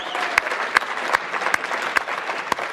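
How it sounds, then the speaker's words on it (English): Conference audience at a Humans to Mars summit applauding a person: dense, close clapping throughout with a few sharp louder claps standing out, no talk. "a big round of applause for Wade"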